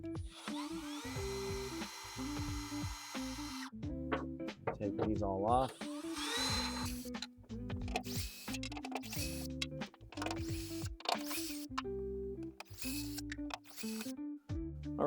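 A power drill whirs in short bursts while backing clevis bolts out of a RAM truck, the motor spinning up and stopping repeatedly at close range, with a person speaking between the runs.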